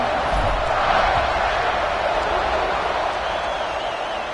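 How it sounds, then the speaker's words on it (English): A football stadium crowd at a UGA vs Alabama game roars steadily at kickoff, a dense, loud wall of cheering that holds throughout with no break. "this crowd now ready to get behind them"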